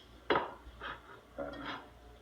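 A glass Pyrex loaf pan set down with a sharp clink, followed by a few lighter knocks and scrapes of glassware, close by.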